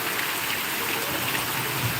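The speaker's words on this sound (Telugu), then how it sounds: "ఈ నేచర్ ఒడిలో వర్షం పడుతుంటే ఎంత మంచి అనిపిస్తుంది" Steady heavy rain pattering down on surfaces outdoors in nature, a dense, even hiss of drops with no voices.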